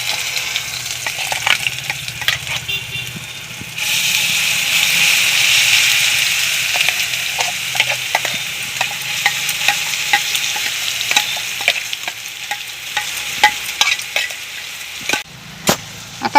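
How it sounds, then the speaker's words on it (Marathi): Green masala goes into crackling tempering with asafoetida and sautés over medium heat, the sizzle swelling loudly at first, then settling into a steady hiss punctuated by sharp clicks of stirring against the pan. "आता आपण मसाला मध्यम गॅसवरती परतून घेऊ"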